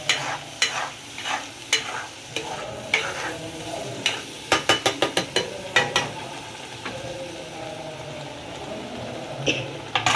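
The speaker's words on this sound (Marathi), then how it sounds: "या स्टेजवर आपल्याला करायचा गॅस फास्ट, जेणेकरून मसाला व्यवस्थित भाजला जाईल." Egg curry masala roasts on a high flame, a steady sizzle punctuated by repeated scraping stirs of a spatula against the pan, including a quick burst of rapid strokes midway, with no talking.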